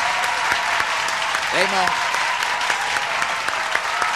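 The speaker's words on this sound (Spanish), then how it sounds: "fuerte el aplauso para Raymond Arrieta" Loud, steady applause for Raymond Arrieta fills the space, dense clapping from an audience, with a voice briefly speaking over it midway.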